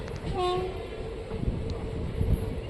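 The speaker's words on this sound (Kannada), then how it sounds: "ನಮ್ಮ ಟ್ರೈನ್ ಈಗ ಚಿತ್ತೂರು ರೈಲ್ವೆ ಸ್ಟೇಷನ್ ಒಳಗೆ ಎಂಟ್ರಿ ಆಗ್ತಿದೆ" Sheshadri Express entering Chittoor railway station: a short tonal horn blast near the start, then rumbling wheels and rhythmic clunks of rolling carriages close by.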